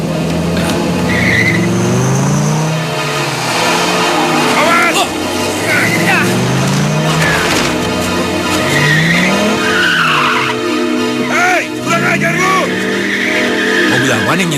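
A car skidding with squealing tires as it is driven to ram someone, repeated screeches and engine sound mixed with loud music and shouting voices throughout.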